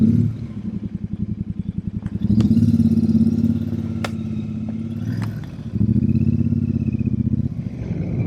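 A Royal Enfield Super Meteor 350 motorcycle ridden on a road trip, its single-cylinder engine thumping steadily and loud up close, rising as it accelerates, with a brief drop between throttle pulls and some wind and clatter.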